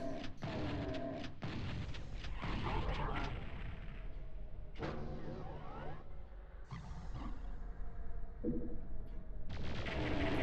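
Shotgun blasts in the Doom video game, several loud booming shots in quick bursts with whooshing game effects and dense action sound between them.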